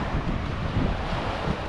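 Steady wind roaring over the sea while kayaking on a choppy day, blowing hard inshore with dense broadband buffeting against the microphone and a faint wash of surf beneath, constant and close throughout.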